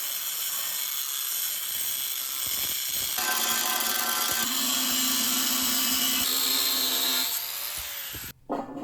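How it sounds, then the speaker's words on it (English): An angle grinder cuts into a metal workpiece for a vice stand, a continuous high whining grind that shifts in tone partway through and stops abruptly near the end. "we're just going to mark it with the angle grinder here real quick"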